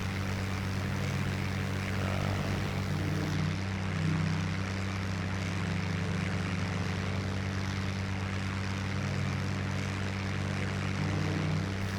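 Propeller fighter plane engine roaring at full power in a steady climb in the IL-2 Bodenplatte flight game, a loud continuous drone with a constant low hum that holds throughout, no voices.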